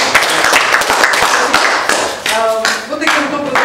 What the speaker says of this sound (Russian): А почему такие аплодисменты сухие у вас?